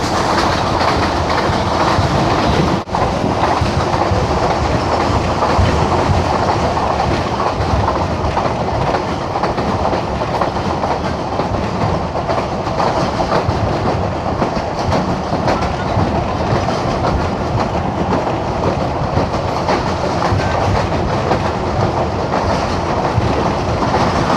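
A passenger train runs at good speed on the line from Lahore to Malakwal via Lalamusa, a steady loud rumble with rhythmic clickety-clack of wheels over rail joints throughout.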